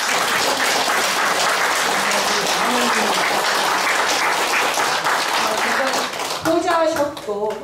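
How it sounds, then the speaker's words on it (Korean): A crowd at a Korean book launch celebration gives loud, sustained applause, dense clapping throughout, with a voice speaking over it near the end as the clapping thins. "여기 계신 분들께서 큰 응원의 박수 한번 부탁드립니다."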